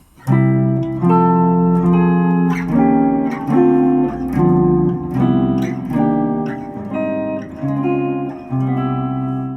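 Rich, extended jazz chords played one after another in a steady progression, each voicing ringing clearly, loud and alone with no speech.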